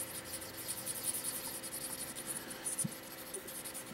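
A fountain pen nib scratching across paper while being smoothed, with faint, light strokes and soft ticks repeating steadily against a quiet background hiss.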